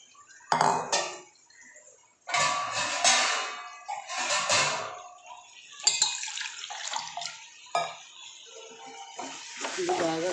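A spoon works smashed paste into curry in a pan, with scraping and clinking against the metal in irregular bursts, close up, beside running water and a voice talking.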